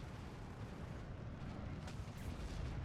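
Mortar fire in the wartime strategy game Steel Division 2 comes through as a faint, distant rolling rumble of blasts, low and continuous with no sharp close impact.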